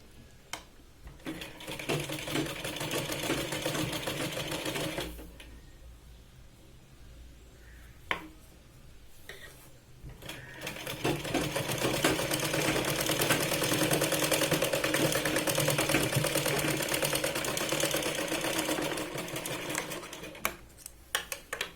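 A sewing machine stitches the neckline of a Punjabi dress in two long close bursts of fast, rattling stitching separated by a quieter pause with a few handling clicks.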